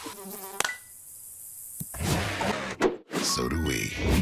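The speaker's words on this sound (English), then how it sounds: "When mosquitoes show up," A mosquito whines in a steady, close, thin buzz for about a second and a half in a pest control commercial, then gives way to loud crowd and broadcast noise.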